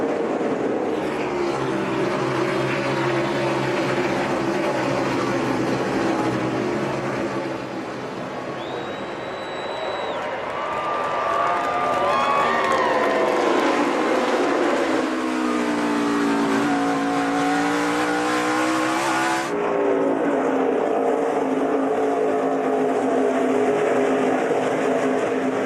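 NASCAR stock cars racing at Watkins Glen road course in the 2013 Cheez-It 355, engines roaring steadily with shifting pitch as cars pass and accelerate, loud and continuous throughout.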